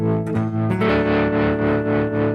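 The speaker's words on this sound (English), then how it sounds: "the next one's the same thing, but with tremolo. And I've got a harmonic tremolo" Electric guitar played through a harmonic tremolo effect, sustained chords shimmering with a steady pulsing wobble, loud and close with no talk.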